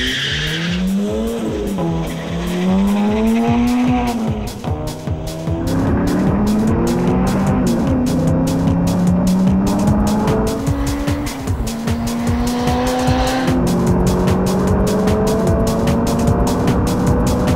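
Turbocharged Honda CRX and Ford Falcon V8 racing, engines revving hard and rising through gears with loud tire squeal, close and continuous with no pauses.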